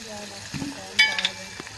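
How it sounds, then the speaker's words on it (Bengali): Koi fish frying in oil in a pan over a clay stove, a soft steady sizzle with a few brief stirring clatters and a sharper metallic clink near the middle, no voices. "মাছটা একটু ভালো সুন্দর করে ভাজতে হবে"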